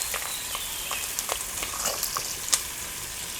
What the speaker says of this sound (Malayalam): തേങ്ങാക്കൊത്ത് വറക്കുക